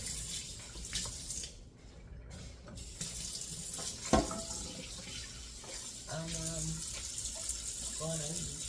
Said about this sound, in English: I'm going to rinse them off first